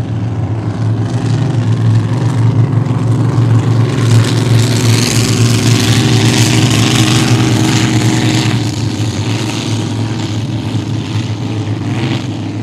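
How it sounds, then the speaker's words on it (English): Loud, powerful racing boat engines, including a Mike Stock racing engine, roar continuously at a sprint boat race in Long Beach, a dense rumble with swelling intensity midway, heard from nearby. "That's a Mike Stock racing engine in the El Cid boat"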